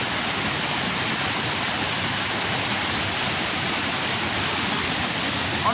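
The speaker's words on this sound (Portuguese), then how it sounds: "A cachoeira" Steady, dense roar of the São Daniel waterfall, continuous rushing water filling the whole clip with no pauses.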